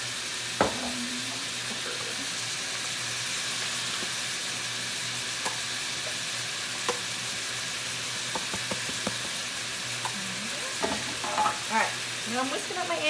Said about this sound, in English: And stir frying happens really quick